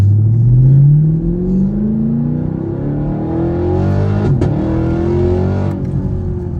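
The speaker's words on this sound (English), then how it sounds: "I'm gonna get y'all a video of me doing like a launch in this" A Chevrolet Camaro SS launches hard, its engine revving loudly and climbing in pitch as the tires spin, then easing and surging again close by, with no talking.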